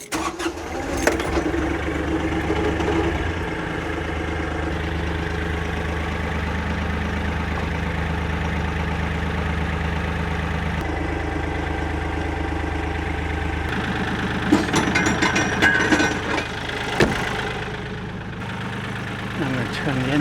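A Kioti CK3520SEH compact tractor engine idles steadily with a low rumbling drone, briefly revving and rattling near the end, with occasional speech over it.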